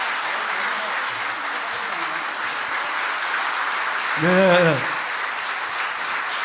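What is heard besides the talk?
congregation applause in church service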